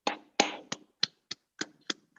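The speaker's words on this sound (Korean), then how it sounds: "강의에 수고해 주신 강사님들 함께 박수 부탁드리겠습니다." Sparse hand claps from a small lecture audience thanking the instructors: about nine separate, crisp claps at irregular intervals with quiet gaps between them.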